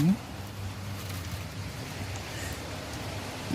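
Steady rain pattering on a surface, a soft continuous hiss with a faint low rumble, fairly quiet throughout.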